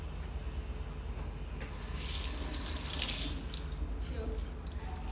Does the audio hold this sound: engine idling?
no